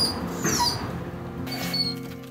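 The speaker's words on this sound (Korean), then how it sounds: "답답함 때문인지 연신 낑낑거리는" A dog whimpers and whines in short, high-pitched bursts, close by and fairly faint, with a quiet hum underneath, while tied on a short leash.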